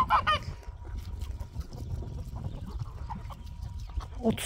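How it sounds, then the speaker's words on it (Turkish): Village chickens cluck and squawk outdoors in a windy yard, a few sharp calls near the start and end over a steady background of softer clucking and wind. "Kaç tane tavuk var bilmiyorum."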